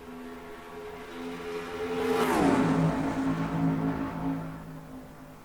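Race trucks in the NR2003 video game during the JBL 200 at Chicagoland under the lights: an engine drone swells as one truck roars past with a falling pitch, then settles into a steady hum.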